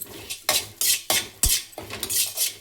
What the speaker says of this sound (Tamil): இன்னும் கொஞ்சம் நேரம் வறுத்துட்டா நல்லா மொறுமொறுன்னு ஆயிடும்.